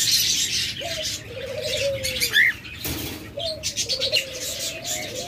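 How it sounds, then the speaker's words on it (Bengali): Lovebirds kept by a breeder, including a nesting pair, chirp and call in short bright bursts, with rising whistled notes and some wing flutter close by, no talking. "এবার ফ্রেন্ডস আপনাদেরকে লাভ বার্ড দেখাচ্ছি"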